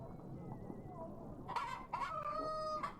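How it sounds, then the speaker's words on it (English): Rooster crowing and clucking from the Yes, Your Grace game, a few short, clear calls after a murmur of background sound, fairly quiet overall. "My magical rooster!"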